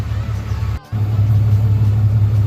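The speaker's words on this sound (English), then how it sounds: "sorry if you hear the truck running in the background" A truck idles nearby during steering repair work, a steady low rumble with a brief dropout near the start before the engine drone resumes, loud and continuous.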